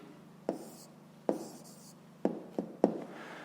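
Pen scratching out an answer by hand on paper for a fifth-grade maths exercise, five short, distinct strokes spaced unevenly over a few seconds, quiet and close, with no talking.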